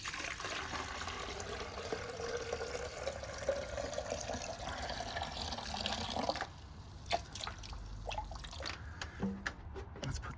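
Water is poured out of a jug from flushing a heat pump tumble dryer's water pump, splashing and trickling steadily for several seconds, then giving way to scattered drips and small clinks, close to the microphone.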